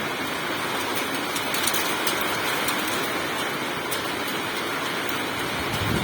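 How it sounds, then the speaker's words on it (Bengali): Steady heavy rain pours down with dense pattering, mixed with sharper scattered impacts of large hailstones striking surfaces in North 24 Parganas, continuous and loud throughout. "দেখুন শিলাবৃষ্টি হচ্ছে।"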